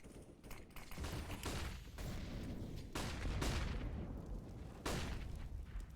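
Explosions and gunfire ring out during a Counter-Strike match. Several sharp booming blasts and bursts come at irregular intervals, loud and close, over a busy rumbling background with no clear speech.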